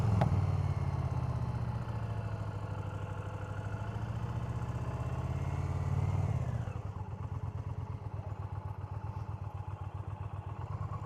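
A motorcycle engine runs steadily during a riding practice session, then its note drops into a lumpy, pulsing idle-like chug, close and loud with no talk over it.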